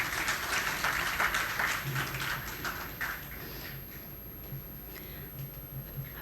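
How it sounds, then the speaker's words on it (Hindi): At an inaugural ceremony, an audience claps loudly to welcome a guest onto the stage. The dense applause is strongest at first, then thins and fades over the following seconds. "तालियां बजा के जोर से स्वागत किया जाए।"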